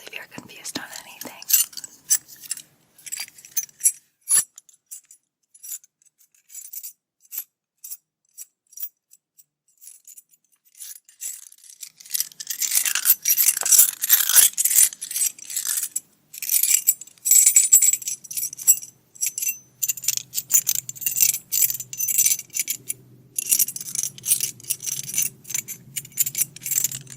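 A bunch of keys, usually kept on a belt loop, is handled and jangled close up in a quiet room, producing bursts of bright metallic clinking and rattling in irregular clusters, with soft handling noises between.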